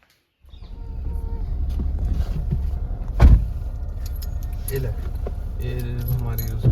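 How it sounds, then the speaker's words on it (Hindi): Car keys jangle and clink near the mic beside a parked car, a bright metallic rattle that starts after a brief silence and carries on steadily, with one sharp loud clank partway through. "वो है चाबी"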